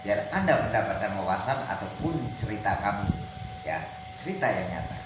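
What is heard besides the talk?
No everyday noise stands out behind the speech.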